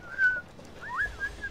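A few short, clear whistled notes, one rising and falling, sound over quiet background in the video game Assassin's Creed 3.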